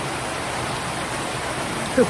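Heavy rain pours in a steady, even hiss, close and fairly loud, with a brief bump near the end.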